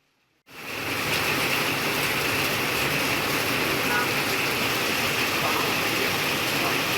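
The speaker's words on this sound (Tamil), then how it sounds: "கொடைக்கானல் மற்றும் அதன் சுற்றுவட்டார பகுதிகளில் விட்டுவிட்டு சாரல் மழை பெய்ததால் பொதுமக்கள், விவசாயிகள் மகிழ்ச்சியடைந்தனர்." Intermittent drizzling rain falls in Kodaikanal, a steady, dense hiss of fine drops that begins abruptly after a brief silence and holds close and even throughout, with no voices.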